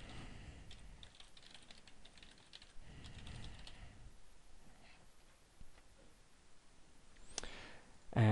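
Computer keyboard keys clicking in quick bursts while details are entered into a form, close and fairly quiet, with brief pauses between runs of keystrokes.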